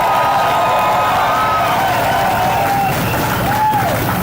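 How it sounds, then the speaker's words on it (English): A crowd at an outdoor rally supporting Canadian oil and gas in Grande Prairie, Alberta, applauds in a continuous, loud wash of clapping mixed with cheering and a couple of whistles. "Please give them a round of applause again."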